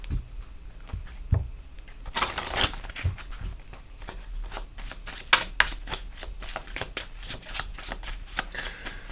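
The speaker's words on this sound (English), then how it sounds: "let's get some of these message cards as well" Message cards being shuffled by hand over about nine seconds, a steady run of riffling, flicking paper with sharper bursts, close up with no talking.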